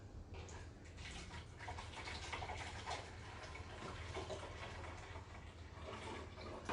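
Water is poured into bottles during a kids' science demonstration, a continuous faint splashing and gurgling flow running steadily throughout.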